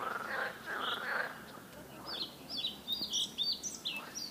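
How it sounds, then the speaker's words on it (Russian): Birds chirp and whistle nearby in short bursts over a soft outdoor background in a pine forest by a river, with low croaking frogs faintly underneath. "Птицы красиво поют, лягушки квакают."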